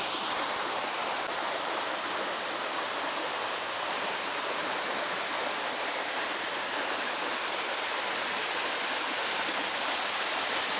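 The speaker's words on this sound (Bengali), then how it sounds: "এই মনোমুগ্ধ ঝর্ণা" A waterfall at Ghatsila in India pours icy water in a steady, loud, broadband rush that continues unbroken, with no voices over it.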